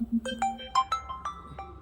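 A melodic phone ringtone plays a short run of bright electronic notes, moderately quiet and close.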